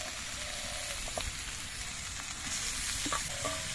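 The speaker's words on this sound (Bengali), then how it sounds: "এবার এই মান কচুগুলো দিয়েও একসঙ্গে কিছুক্ষণ কষিয়ে নিতে হবে" Boiled giant taro sautéing in a pan with potato and spices, a steady dense sizzle close by, broken by a few soft stirring scrapes and light clicks.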